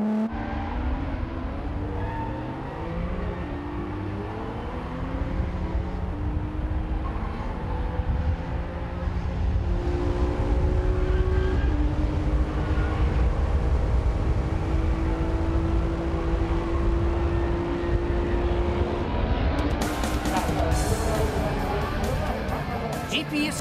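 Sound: car at full throttle from Fuji's final corner

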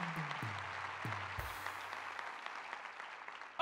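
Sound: applause

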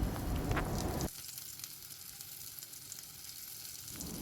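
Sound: potatoes frying in oil in a wok

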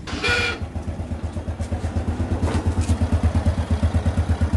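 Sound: Honda Wave Dash 110R engine first start after valve adjustment

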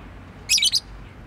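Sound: pet bird chirping

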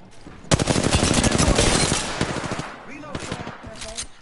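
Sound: gunfire in Apex Legends video game

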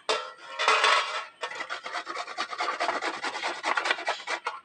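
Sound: grating papaya by hand

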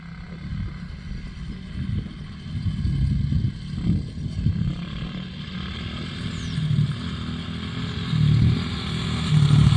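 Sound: motorcycles riding across a meadow

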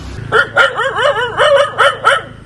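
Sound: dog barking

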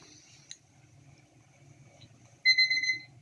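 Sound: kitchen timer alarm ringing

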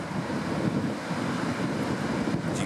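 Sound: ocean waves and wind at the sea

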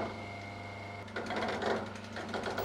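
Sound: digital hydraulic motor poppet valves chattering

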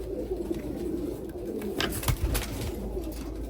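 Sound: pigeons cooing

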